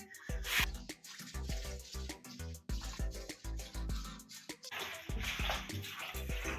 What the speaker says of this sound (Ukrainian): я його закинула в весь ванну, залила водою, і зараз ми будемо його промивати